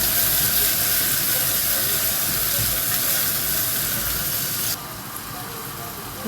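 Onion dropped into hot oil and ghee gives a loud, steady sizzle that holds for several seconds and then suddenly drops to a quieter, lower hiss.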